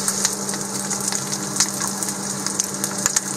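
Bacon and sausage frying in a pan outdoors at a roadside breakfast stop, a steady crackling sizzle with scattered pops, close and continuous with no talking.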